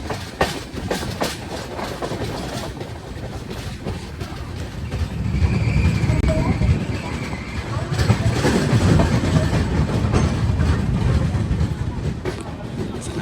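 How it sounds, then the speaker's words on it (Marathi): The Mandovi Express on the Konkan Railway departs Chiplun station, rumbling and clattering with rhythmic clickety-clack, growing louder as it gathers pace, steady and close throughout. "चिपळूणवरून लगेच सुटली आपली ट्रेन"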